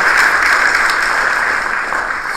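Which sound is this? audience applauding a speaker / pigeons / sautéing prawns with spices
audience applauding a speaker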